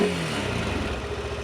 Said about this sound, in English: it's a great sounding engine